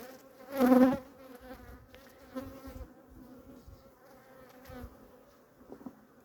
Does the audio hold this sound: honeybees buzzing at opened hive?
yes